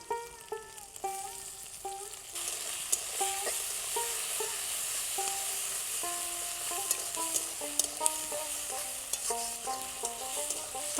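Onion, garlic and tomatoes sizzle loudly in a pan for an Assamese fish curry, with a continuous frying hiss under clear stirring clinks and scrapes, alone and up close.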